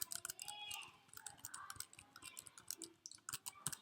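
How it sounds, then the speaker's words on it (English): Fingers tap quickly on a computer keyboard, a run of close, crisp key clicks in an uneven rhythm, fairly quiet, with no voices. "I'm typing any key on my keyboard"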